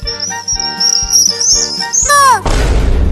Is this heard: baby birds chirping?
yes